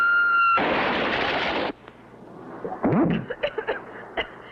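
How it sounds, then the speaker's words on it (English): Cartoon explosion of a projectile hitting a ship's deck: a loud, roaring blast lasting over a second, cutting off abruptly, followed by scattered smaller bangs and pops. "what an explosion"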